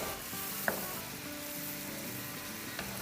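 Onions sizzling and frying in about a tablespoon of oil in a pan for butter chicken, a steady close crackle with a couple of brief clinks of a utensil against the pan.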